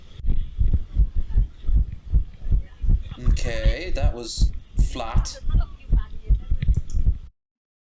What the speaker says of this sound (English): You really can hear the guy's heartbeat.